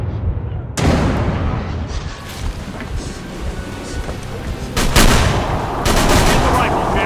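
Gunfire rings out during a monster attack aboard a ship bound for Devil's Reef in Call of Cthulhu: Dark Corners of the Earth, with loud booming shots and crashing noise over wind and water, and voices shouting in the mix.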